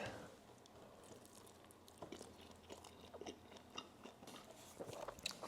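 Someone bites into and chews pan-fried Taiwanese pot stickers, making close, soft crunches and wet chewing sounds throughout, with no talking.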